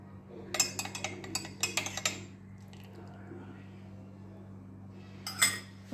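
A spoon stirs a home remedy for cold and cough, giving bright clinks and taps in quick bursts near the start and again near the end, fairly faint over a low steady hum.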